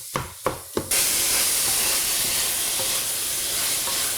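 Sausage frying in a pan, opening with three quick pops or clatters before a loud, continuous close sizzle takes over and holds steady.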